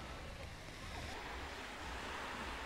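Sea surf washing onto the beach at Lamai on Koh Samui, where the northern part is shallow with coral and a silty bottom; a steady, continuous broadband rush of waves with no speech.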